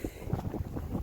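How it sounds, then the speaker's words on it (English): Wind gusts across a mountain trail among cinder cones in Haleakala National Park, buffeting the microphone with a loud, low, continuous rumble over one short stretch. "If the wind would stop"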